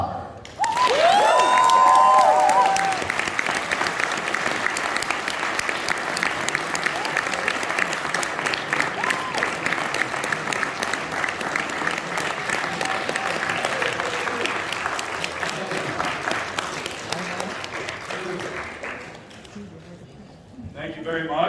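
A convention panel audience applauds Kane Hodder at Flashback Weekend Chicago 2021. Loud, dense clapping runs steadily for about twenty seconds, then fades toward the end.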